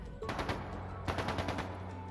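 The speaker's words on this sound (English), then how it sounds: "That sounded like gunfire." Bursts of gunfire crackle through a town in Trails of Cold Steel 2, with rapid volleys of shots from about 0.3 to 0.6 seconds and again from 1.1 to 1.7 seconds, over a steady low background tone.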